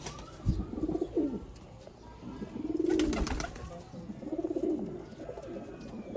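Sialkoti black-faced pigeons coo in repeated rolling phrases, about four distinct bursts close by, each swelling and fading, with a faint rustle between them.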